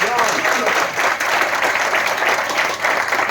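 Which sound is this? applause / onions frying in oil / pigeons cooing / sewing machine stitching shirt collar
applause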